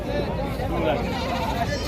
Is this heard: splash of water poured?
no